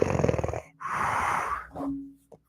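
A voice imitates loud snoring: a long rattling inhale with a buzzing wheeze, a drawn-out breathy exhale, then a shorter snort, heard up close with no other talk.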